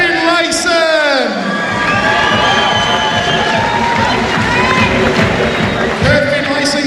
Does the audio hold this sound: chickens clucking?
no